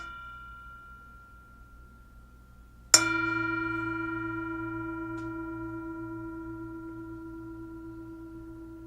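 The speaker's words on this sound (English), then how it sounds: "Again, I'll start with the bell." A mindfulness bell is struck once in a quiet room, a sharp clear strike followed by a long pure ringing tone that slowly fades over several seconds.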